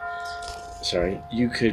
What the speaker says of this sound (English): Oh, there's my school bell.